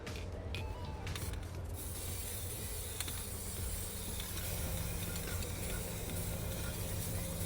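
A continuous hissing spray runs steadily for several seconds, close by, with a few brief clicks and rattles near the start.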